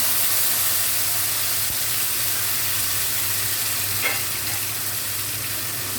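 Ginger, cumin and dried chilli paste loosened with water sizzles steadily in hot oil, a dense continuous hiss with faint stirring, close and even throughout.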